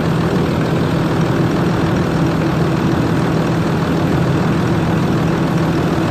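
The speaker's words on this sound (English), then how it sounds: "Okay, now the engine is running. As you can see, the engine is running" A Land Rover Discovery 3 engine idles steadily during gearbox work, a loud, constant low rumble with no speech and no change in pitch.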